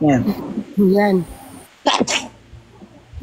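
A single sharp sneeze bursts out close to the microphone after a few moments of casual talk in a live phone stream, followed by quieter voices and background noise.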